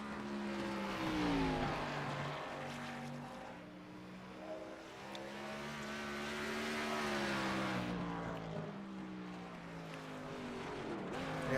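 Race car lapping 5 Flags Raceway in qualifying, its engine note rising and falling steadily as it passes, moderately distant and continuous with no talk.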